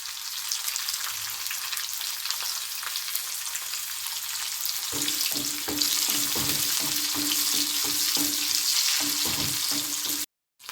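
Onion and green chillies frying for a tempering, a steady hiss of hot oil with repeated clanks and scrapes of a spoon stirring the pan, close and loud with no talking.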